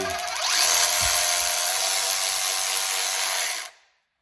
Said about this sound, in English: I'm running them all through this M6 tap